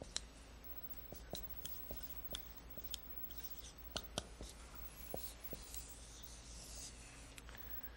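Chalk or marker strokes on a board during a trigonometry lecture: a series of short, faint taps and scratches with quiet pauses between them. No talking.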